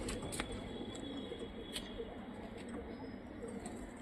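Rajshahi Giribaz pigeons coo and murmur softly and steadily, with a person talking over them.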